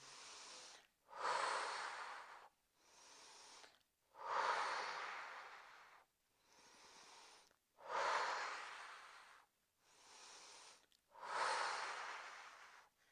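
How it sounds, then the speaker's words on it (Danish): Slow, deep breathing through a Pilates exercise: four long loud exhalations alternating with softer inhalations, each breath separated by short pauses, close and clear with no talk. "kører vi ud på en udånding, kommer tilbage på en lige så lang indånding"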